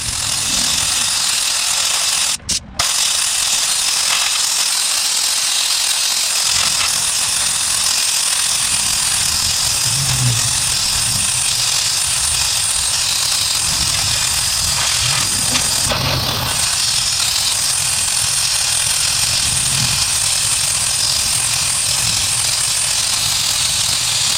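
A power tool sands paint off the bumper of a 1977 Pontiac Trans Am, a loud continuous rattling grind that holds steady for over twenty seconds with only brief dips.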